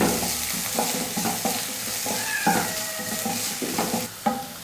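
Sliced onion sizzles and crackles in a small amount of oil in a kadai for roadside masala puri, with steady frying hiss and repeated stirring scrapes and clinks close by.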